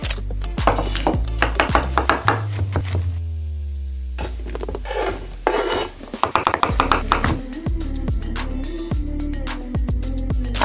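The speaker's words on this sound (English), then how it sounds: "All right, let's get to chopping." Knife chopping mushrooms on a cutting board in a home kitchen while making vegan mushroom and lentil arayes, with rapid uneven taps and scraping, pan clatter and a sizzle from onions sautéing nearby.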